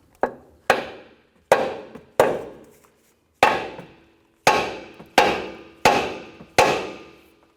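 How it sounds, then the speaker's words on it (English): A hammer strikes the steering knuckle of a 2004-2008 Acura TL to separate the ball joint, nine loud, sharp metallic blows at close range, irregularly spaced with short ringing tails, and no talking. "We're going to use a hammer and strike this side right here,"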